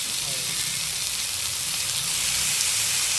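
Tofu fries in a hot oiled pan for a tofu sisig, giving a loud, continuous sizzle with crackling spatter throughout.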